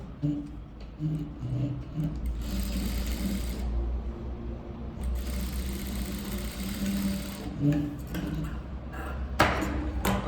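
A sewing machine stitches thread piping on a velvet blouse, running in several bursts of fast, even rhythmic whirring with brief pauses between runs and a few louder clicks near the end.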